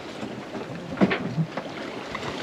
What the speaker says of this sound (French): Les vagues.